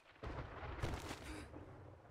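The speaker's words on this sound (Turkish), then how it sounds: "Ya bak bu gök gürültüsü." Thunder in the zombie survival game 7 Days to Die rolls in as a brief, deep, rumbling boom that swells quickly and fades over about two seconds.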